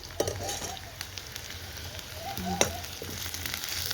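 Onions frying in a pan give off a faint, quiet sizzle with occasional soft pops and crackles, and a voice murmurs briefly in the background.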